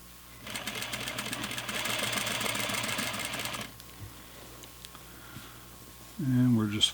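A sewing machine stitches flannel fabric for pajama pants, a close, rapid mechanical whirr lasting about three seconds before stopping, followed by quiet handling and a voice at the end.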